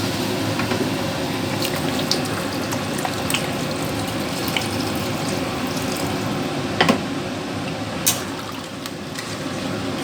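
Water pours steadily into a pan of spiced crab and potatoes being cooked down for crab curry, a continuous close rushing stream lasting several seconds, with a couple of faint clinks and no voices.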